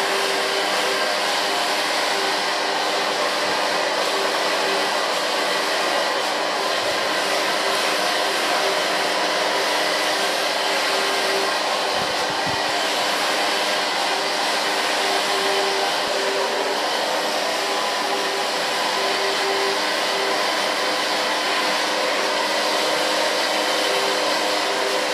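A hair dryer blow drying hair during a pixie haircut in a salon, a loud, constant close whoosh that runs unbroken throughout.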